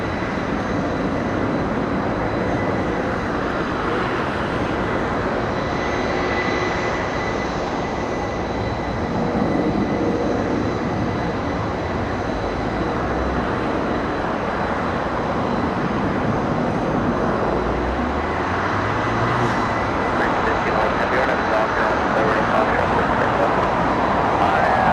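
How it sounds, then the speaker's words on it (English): Boeing 777 at Los Angeles airport spooling up its GE90 jet engines, a steady broad roar with a slow rising whine, distant and continuous over airport ambience. "777 starting up those GE90s"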